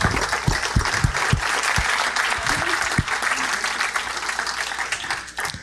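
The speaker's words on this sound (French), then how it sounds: "On peut les applaudir." An audience at the Breizh Awards 2023 ceremony applauds the award winners, sustained clapping throughout with a few sharp, close claps standing out at the start.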